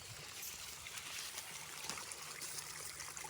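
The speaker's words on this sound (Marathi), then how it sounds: "तेव्हा इथं पाणी चालू आहे दाखव इकडं." Water runs steadily through a sugarcane field, a continuous close rushing hiss that holds at an even level for the whole stretch, with no voices over it.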